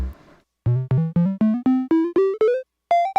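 Eurorack modular synth with an envelope triggering a VCA, playing short plucked tones that step upward in pitch in an even rhythm, clean and alone.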